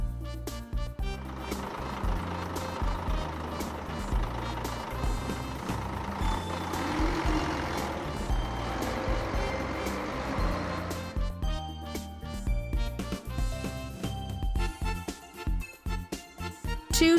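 A city bus gives off repeated reversing beeps over its running engine, with a hiss like an air brake and clattering bursts near the end; no voices.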